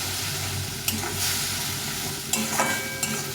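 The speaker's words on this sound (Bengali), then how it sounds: "এই রসুন বাটাটা দিয়ে দেবো দিয়ে এটা সবটা কষিয়ে দেবো ভালো করে" Ginger, green chili and garlic paste sizzle as they are sautéed and stirred in a pan, a steady frying hiss broken by a few sharp spatula scrapes, with no talking.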